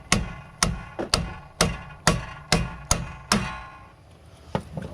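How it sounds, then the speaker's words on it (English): Sharp metallic hammer taps on the lower control arm bolts of a Dodge Ram van, seven or eight evenly spaced strikes close by, each with a quick ringing decay, then a softer pair of taps after a pause. "Kind of tap on these bolts. And just pop right out of there."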